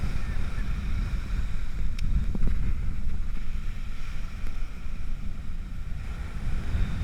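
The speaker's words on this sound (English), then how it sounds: "I mentioned the wind speed at about 30 miles an hour, and you're going to be able to hear it on many parts of the video" Strong southwest wind of about 30 mph blows steadily across a surf-fishing beach, a continuous loud roar and buffeting on the microphone with crashing waves underneath, no talking.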